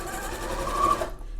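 A sewing machine runs a steady, close stitching burst through fabric while sewing a wine bottle gift bag, whirring continuously for about a second before stopping abruptly into near silence.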